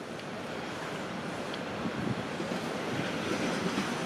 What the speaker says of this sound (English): And you guys can hear a subway train going by.